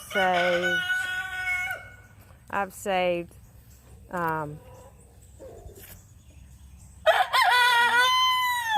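A white rooster crows loudly and repeatedly nearby, with clucking between crows and a person talking briefly in between.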